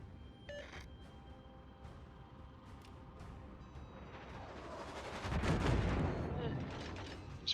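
Distant naval gunfire from incoming shells in World of Warships, a low rumbling burst that swells near the end over steady engine and ambient game noise, with a brief beep early on.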